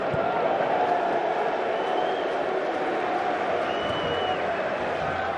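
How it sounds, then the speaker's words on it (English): Home crowd at a Leicester City football match, where Leicester are playing Hull City, voicing displeasure: a steady, far-off roar of many voices filling the stadium without letup. "the home crowd beginning to show their displeasure again"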